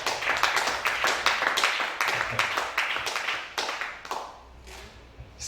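An audience applauding at a preaching event, a burst of sharp overlapping claps that thins out and fades over a few seconds.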